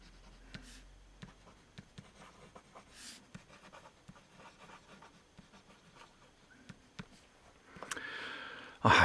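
A Conway Stewart medium-nib fountain pen writing on paper, soft scratchy strokes and light ticks in an irregular rhythm, close and quiet, ending with a louder rustle.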